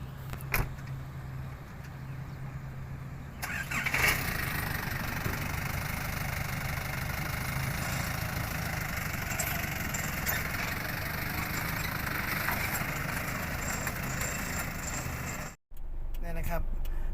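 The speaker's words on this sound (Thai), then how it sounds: "เดี๋ยวผมถอยรถเข้าไปนะครับ" A truck engine idles and rumbles as the truck reverses in to collect sacks of fertilizer at a sugar factory in Udon Thani, a steady engine drone with a knock or clunk near the start and voices at times.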